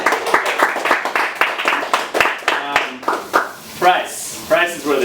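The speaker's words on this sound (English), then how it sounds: "let's clap for it" A cooking class breaks into close, rhythmic hand clapping, with several quick claps in a row, and then people start talking over the last scattered claps.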